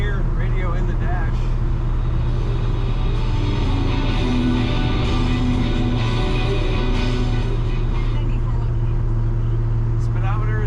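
A 1969 Chevrolet C10 pickup with a column-shift automatic accelerates while driving, its steady low engine drone and road rumble filling the cabin, with a voice talking over it.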